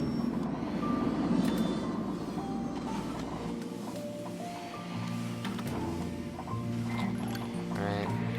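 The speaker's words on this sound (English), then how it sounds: "The sound of all the robots." Mechanical robots and robot arms in the Planet Coaster video game, with a dense, steady bed of whirring and humming motion layered with repeated beeping tones and clanks throughout, loud and continuous.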